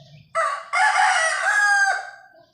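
A rooster, one of a pair of fighting cocks on a farm, crows once loudly and close by, a long drawn-out call that fades at the end with no other sounds around it.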